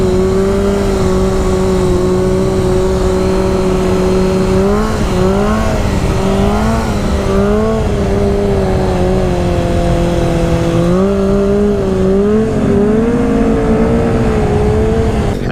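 A motorbike with a new sprocket revs hard during late-night wheelies, its engine a loud, steady drone whose pitch climbs and dips repeatedly as the throttle is worked, close to the listener.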